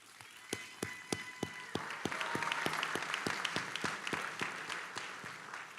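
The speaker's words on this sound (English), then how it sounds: "Let's give them a round of applause." A city audience applauds young rock performers at a State of the City address, beginning with distinct individual claps that swell into fuller, denser applause and then ease slightly.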